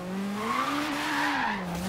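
A Ford Escort RS1800 drifts in a racing game, its tires squealing in a long wavering screech over a steady engine drone, loud and close.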